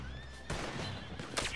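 A horse whinnies in a video game, a shrill wavering neigh that gives way to a loud broadband burst and scuffling noise.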